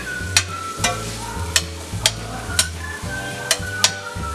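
Half an onion with garlic grilling in a pan, a steady sizzle under a regular series of sharp stirring clicks and scrapes, roughly two per second, close and alone.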